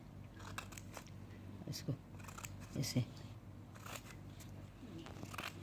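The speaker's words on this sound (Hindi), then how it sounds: "ये गुड्डी काट के मैं दिखाती हूँ आपको" Scissors snipping an embroidered fabric piece for a Sindhi suit, a few small crisp cuts around the middle, quiet and close beneath someone talking throughout.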